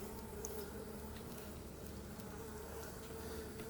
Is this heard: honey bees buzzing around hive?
yes